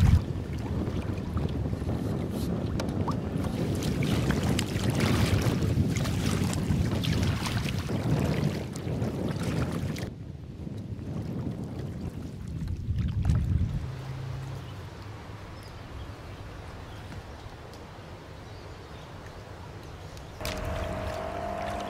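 Paddling a canoe on the Connecticut River on a hot day with a gusty headwind: wind buffets the microphone and water splashes and swishes with each stroke, loud at first, then quieter and calmer toward the end.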